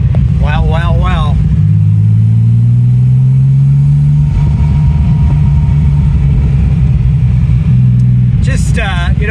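A Porsche 930 Slantnose Turbo engine pulls hard, its low drone rising steadily in pitch, dropping briefly and then climbing again. The engine stays loud and close throughout, and a voice speaks briefly near the start and the end.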